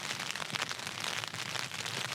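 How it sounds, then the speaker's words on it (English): Rain falling on a tent while wild camping between storms, a steady, fairly close patter of drops drumming on the fabric without a break. "the rain's coming down."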